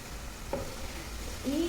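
Medium-sized onions frying in a pan until brown for prawn biryani, a brief, close sizzle with a light stir in the middle.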